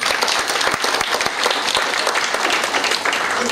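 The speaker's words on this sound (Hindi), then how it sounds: "ताली बजाए इसके लिए" A workshop audience bursts into sustained applause, dense overlapping claps filling the room at steady loudness for several seconds.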